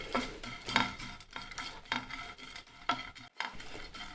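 Dried shrimp roasting in a hot pan over a medium flame, stirred in repeated scraping strokes with a soft dry rustle and light sizzle, fairly quiet and close with no talking.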